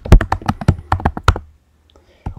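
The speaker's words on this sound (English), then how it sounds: "you start typing" Rapid typing on a computer keyboard, with about a dozen sharp, close key taps in quick irregular rhythm that stop abruptly, followed by near silence and one last tap.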